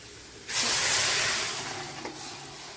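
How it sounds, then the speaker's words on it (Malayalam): Cooked chickpeas tipped into a hot pan for kadala curry give a sudden loud hissing sizzle that swells and then slowly fades, with no talking. "നമ്മൾ വേവിച്ച് വെച്ചിരിക്കുന്ന കടല ഒഴിച്ചു കൊടുക്കുക"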